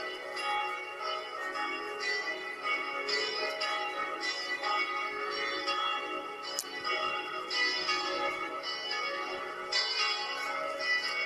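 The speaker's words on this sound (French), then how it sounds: "la cloche que vous entendez, ça, c'est la cloche 1, la 2, la 3, la 4." Church bells in a Block Craft game church peal continuously, several bells sounding in turn in a full ringing sequence, bright and sustained throughout with no voices.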